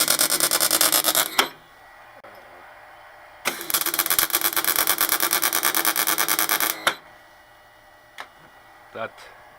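A three-phase MIG welder running off a VFD inverter on single-phase power gives two long, loud arc bursts with a rapid, uneven pulsing texture, split by a quiet gap and followed by a few short ticks.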